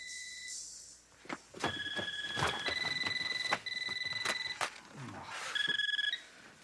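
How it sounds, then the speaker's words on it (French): A telephone rings in a family home in a French-language sitcom, sounding as repeated bright electronic ring bursts that sit close and fairly loud, with short gaps and a few background knocks between them. "Thomas, ça te tenterait pas des fois de répondre au téléphone?"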